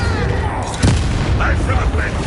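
A Confringo blasting spell explosion in a Hogwarts video game, a single dull boom near the middle of a short stretch, set against a rumbling background with voices.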